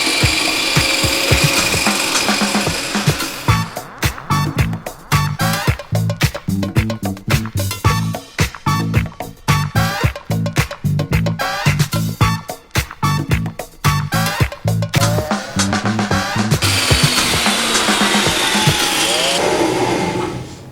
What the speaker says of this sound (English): let's lay these out on the table saw and get shaving.